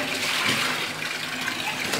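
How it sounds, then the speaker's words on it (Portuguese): Steady broadband rush of running water, loud and continuous throughout, like a tap or filling basin in a house in Bom Jesus da Lapa, Bahia. "Isso aqui é água"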